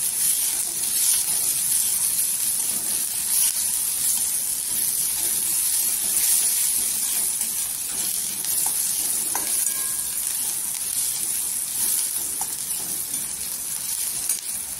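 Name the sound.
onion sautéing in oil for onion chutney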